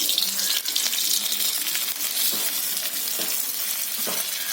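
Shallots and a crunchy mixture snack fry in a pan, giving a steady, close sizzle with a broad hiss throughout and a few soft stirring clinks, no talking.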